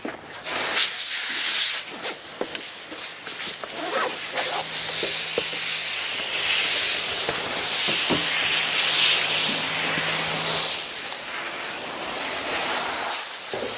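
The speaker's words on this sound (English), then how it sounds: "what we're going to do is we'll rinse now, and then squeegee off, and then brush and dry" A hose sprays water to rinse conditioner out of a show horse's coat. The hiss is steady and close and carries on through the whole stretch with no talking.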